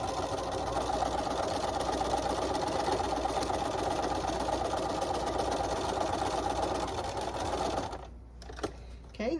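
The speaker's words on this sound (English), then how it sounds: "I'm just going to jump across and sew up the other side" A sewing machine runs steadily while stitching across a trick-or-treat bag, a continuous motor whir with fast needle patter lasting most of the stretch, then stopping abruptly near the end with a few light clicks.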